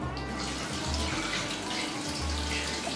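Water pours from a bottle for a rinse aboard a narrowboat frozen in on the canal, a continuous close splashing trickle with a low gurgling rhythm throughout.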